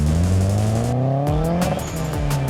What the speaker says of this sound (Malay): Tengok tu bunyi blow off SQV.